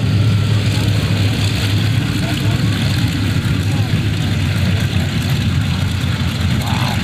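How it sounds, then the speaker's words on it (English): An F4U Corsair's big R-2800 radial engine churns at about 1950 RPM during an airshow pass, a loud continuous rumbling roar filling the air with a voice faintly underneath. "that big R2800 front wing engine, churning away about 1950 RPM"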